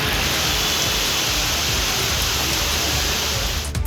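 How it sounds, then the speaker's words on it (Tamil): Heavy rain pours steadily in the Tiruvallur area, a dense, even hiss that stays loud and unbroken throughout, with no voices over it. "திருவள்ளூர் மற்றும் அதன் சுற்றுவட்டார பகுதிகளில் கனமழை கொட்டி தீர்த்தது."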